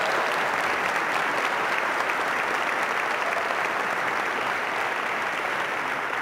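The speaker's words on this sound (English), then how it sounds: "Please give Rory a big round of applause too." A crowd applauds steadily and loudly for several seconds, a dense wash of clapping with no voices standing out.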